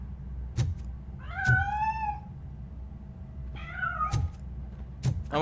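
A cat meows twice in the Robocop: Rogue City video game, each call a clear rising-and-falling cry, with sharp knocks and a low steady hum in between.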